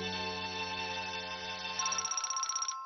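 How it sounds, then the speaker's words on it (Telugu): A phone rings in a Doraemon cartoon, a bright electronic ringtone with steady tonal bursts that switch to a faster pulsing pattern before cutting off, clear and alone. "నోబిత, జియాన్నికి ఫోన్ చేశాడు."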